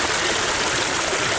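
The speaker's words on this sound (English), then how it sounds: "Stream coming from somewhere." A stream flows steadily through Yellowstone National Park, a dense, close, continuous rush of water with no breaks and no talking.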